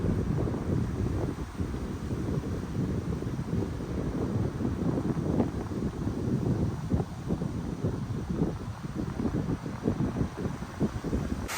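Wind gusting and rushing steadily through pine trees on Moaksan mountain, a broad, continuous roar with buffeting against the microphone, no voices.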